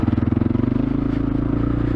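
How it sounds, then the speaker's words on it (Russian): Small Kovi Lite 2021 motorcycle pulling away from a start, its engine a steady low, even drone close by with a slightly pulsing rhythm, no voices. "Вон, видите, мотоцикл начинает ехать."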